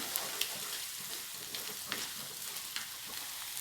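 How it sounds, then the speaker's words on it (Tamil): Ginger and garlic sauté in a kadai with a soft, steady sizzle. Faint scrapes and ticks from stirring are heard now and then, and the whole sound stays fairly quiet. "இஞ்சி பூண்டு நல்லா வதங்கட்டும். கடாயிலே பண்ணிடலாம்."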